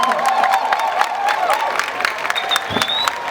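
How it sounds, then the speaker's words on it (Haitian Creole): Applause and cheering from a crowd at an outdoor classical music concert on a public square in Cap-Haïtien, steady dense clapping with crowd noise. "Applaudissements s'il vous plaît."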